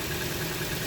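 A car engine idles while warming up, a steady low hum with faint even pulsing and no voices over it.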